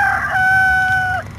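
A rooster crows once in the Moomin video game, a long sustained cock-a-doodle-doo with a clear rising-then-falling tone that ends abruptly, heard alone over a low background hum.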